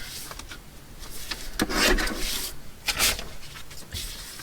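Paper strips for a handmade notebook are trimmed down to size, giving a couple of close, dry scraping slices with light rubbing and handling noises between them, and no voices.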